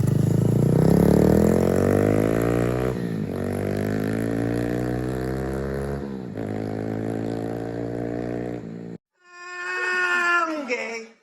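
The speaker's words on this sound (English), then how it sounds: "let's go ahead and get some flyby clips so you can hear it from the flyby standpoint" A Honda Monkey motorcycle fitted with an OVER Racing exhaust makes several flyby passes, its buzzing, high-revving engine rising and falling in pitch as it goes by, and a final pass follows a short gap.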